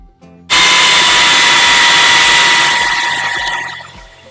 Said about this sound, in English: you just keep sanding away until you've got a flat surface